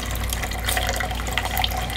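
Water running steadily from a tap into a measuring container for a body spray recipe, a continuous close splashing fill with no speech.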